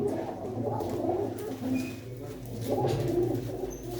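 Pigeons kept in a Punjabi fancier's loft for flying competitions coo in a steady, layered chorus, several birds close by at once, with low rolling calls swelling and overlapping throughout.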